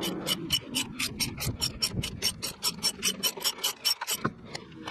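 Socket wrench with 13 and 15 mm sockets ratcheting on a car bolt during repair work on a Ford Fiesta, giving a steady run of about twenty quick, close, crisp clicks with no talk.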